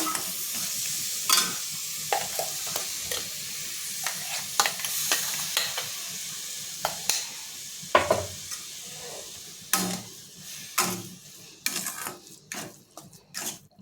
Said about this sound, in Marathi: त्याच्यामध्ये आपल्याला एक केस टाकून घ्यायचं आहे गाजरचं आपण केस बनवून घेतलेले आहे ते टाकून आपल्याला तुपामध्ये भाजून घ्यायचे